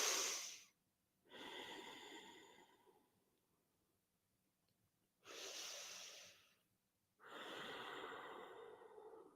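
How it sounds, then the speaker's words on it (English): Slow, deep breaths during a relaxing yoga session: three long, soft airy breath sounds separated by quiet pauses, close and unaccompanied by talk. "And we'll take 3 breaths"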